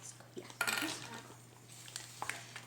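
Softened butter mixed in a bowl, heard as quiet clinks and scrapes of a utensil against the bowl in a few uneven bursts, close and faint, with no speech.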